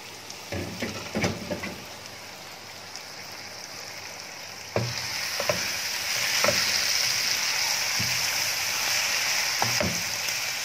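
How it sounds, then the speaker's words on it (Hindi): Keema mince and masala frying in a pot for karela salan, a constant close sizzle with occasional clanks and scrapes of a spoon stirring, growing louder partway through. "हमारा कीमा और मसाला अच्छी तरह से भुन चुका है"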